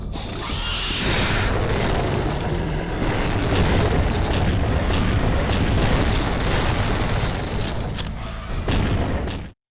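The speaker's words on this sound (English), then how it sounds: "A rocket launching giant demon." Giant rocket-launching demon boss in a large church in the video game Gore: Ultimate Soldier, a dense, loud, continuous barrage of booming blasts and clanking mechanical noise that holds steady throughout before cutting off abruptly.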